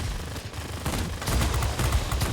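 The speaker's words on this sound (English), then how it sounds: "the fact that the cannons just completely," Cannons on the XP-54 fighter in the World of Warplanes game fire in rapid, continuous bursts. The loud, dense barrage grows heavier partway through and runs without any talking.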